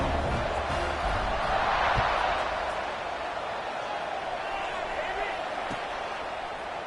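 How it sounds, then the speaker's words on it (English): A football stadium crowd at a California versus Louisville game buzzes as a steady, broad roar, louder at first and then holding level, with a commentator talking over it. "this crowd is buzzing after that last score"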